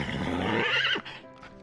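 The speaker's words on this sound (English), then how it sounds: "He's just calling out to all his horses all around the farm there, just letting them know he's here" Stallion on a farm neighing loudly and up close, a single long, shrill whinny that rises and then trails off into softer snorting breaths, with no voices.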